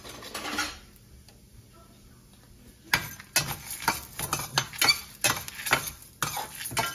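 Urad dal, black pepper, dried chillies and asafoetida dry roasting in a pan, heard as quiet then a run of sharp scraping stirs and clinks of a spoon against metal, close and irregular.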